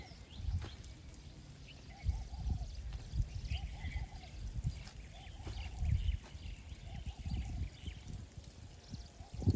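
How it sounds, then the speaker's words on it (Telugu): Water pours and trickles steadily onto the ground around a ridge gourd plant on farmland for several seconds, with faint background voices and outdoor ambience. "బీర చెట్టుని బాగా చేసి నీళ్లు పట్టించేసి"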